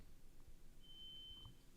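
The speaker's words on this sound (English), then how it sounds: "is that a smoke detector going off?" A single thin electronic beep, like a smoke detector chirping somewhere in an apartment, sounds faintly and steadily for about half a second over a low, noisy room background.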